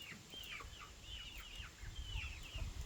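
Young Rhode Island Red chickens, recently hatched and not yet laying, cluck and chirp in a soft, irregular run of short calls on a homestead, with faint background rustling.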